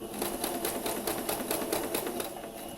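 A sewing machine stitches slowly as its handwheel is turned by hand, needle passing into fabric, giving a quiet, evenly spaced series of soft clicks and taps.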